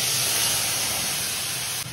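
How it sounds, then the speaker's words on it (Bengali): Wet ground cumin, turmeric and chili paste with salt hits a hot wok for a fish curry, a loud, close, continuous hiss and spray that holds for about two seconds before dropping away. "এরপর আমি এই মশলাটা কড়াইয়ের মধ্যে দিয়ে দেব"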